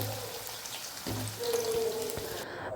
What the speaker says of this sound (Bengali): আলুর টুকরোটা গ্যাসের ফ্লেমটা মিডিয়াম টু লোতে রেখে ভাজতে থাকতে হবে